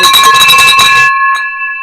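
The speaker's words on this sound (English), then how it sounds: "That bell." A bell rings to celebrate a closed $13,500 deal in the Houston market: bright, sustained ringing tones over busy room noise, then one more soft strike that fades out alone.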